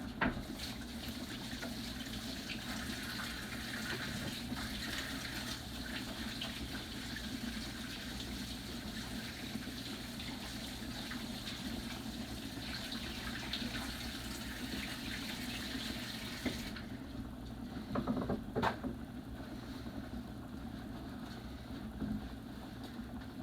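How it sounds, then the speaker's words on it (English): Hands being washed under a running kitchen tap: a steady, close rush of water that continues evenly for about seventeen seconds, then softens, with a few faint knocks near the end and no talking. "Go ahead and wash my hands."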